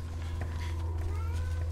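A cat meows a few times in a video game scene, short tonal cries rising and falling over a low steady hum, with a voice speaking faintly around them.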